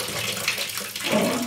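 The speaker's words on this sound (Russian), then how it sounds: "А звук, это, который вы слышите, это есть этот подсос воздуха." Air being sucked into the mixer of a leaking water heater, a hissing, gurgling watery rush that swells and dips over a short stretch, close and moderately loud.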